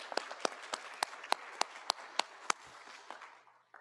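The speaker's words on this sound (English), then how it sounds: "So let's give the Black Faculty Staff Association a round of applause." An audience applauds the Black Faculty Staff Association at a University of Alabama ceremony, with distinct individual claps, fairly faint and sparse, tapering off toward the end.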